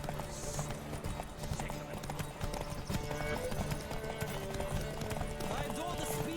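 Galloping hooves of a horse in a video game clip-clop in a fast, steady rhythm, with brief whinnies and voices over the top.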